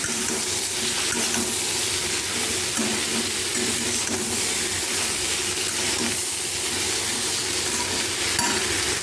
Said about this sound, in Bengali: এইদিকে মাছটাও কিন্তু প্রায় ভাজা হয়ে আসছে